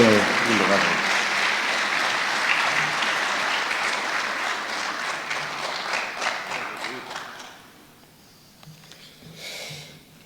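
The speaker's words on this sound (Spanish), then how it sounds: "Por favor, recibámoslo con un caluroso aplauso" Warm applause from an audience at a university lecture event welcoming a guest, sustained dense clapping that gradually thins and fades out near the end, with a few scattered claps after.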